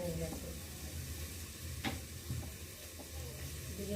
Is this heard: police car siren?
no